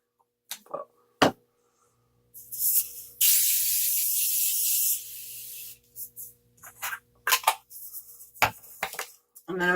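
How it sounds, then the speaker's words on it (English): A Morphe makeup setting spray gives one sustained, hissing mist burst of about two and a half seconds, close to the listener, with brief bottle clicks and a voice talking around it. "I'm going to take the Morphe setting spray."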